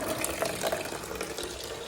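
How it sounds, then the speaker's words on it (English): Water drains steadily from the water box of a car being torn down, a continuous splashing, trickling flow close by that holds at an even level throughout. "Draining the water box right now."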